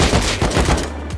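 Video game gunfire comes as a dense, rapid string of loud, close shots, pounding without pause across the short moment.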